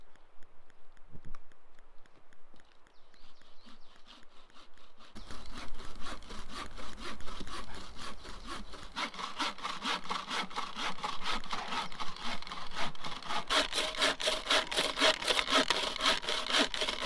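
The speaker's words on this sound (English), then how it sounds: "This is the latest buck saw that I've made." A handmade buck saw cuts firewood outdoors, starting with a few light strokes and then settling into a steady, loud back-and-forth rasping rhythm close by.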